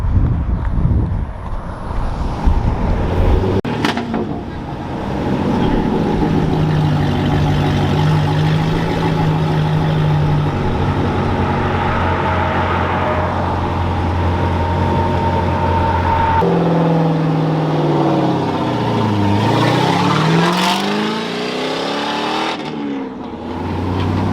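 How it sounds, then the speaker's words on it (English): A Valarra supercar engine running close by, first a rough idle and then a series of loud sustained revs that rise and fall in pitch, with a wind-buffeted start and a brief drop near the end. "Vroom! We're running! You never seen this before on the internet."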